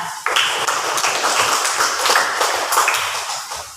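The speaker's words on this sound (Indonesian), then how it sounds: "tepuk tangan dulu di kelompok 1 dan kelompok 3" Schoolchildren in a classroom clapping for two groups of classmates, a loud burst of many small hands striking together, steady and close, without speech.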